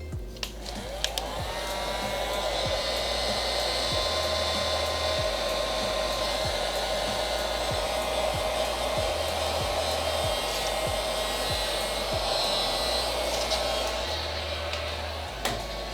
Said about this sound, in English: I'm gonna heat the area out and then stretch it over